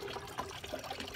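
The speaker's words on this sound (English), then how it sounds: "the water that drips up off of it all the time" Steady soft trickling and dripping of water running over moss on a small water fountain among potted plants, faint and continuous with no talking.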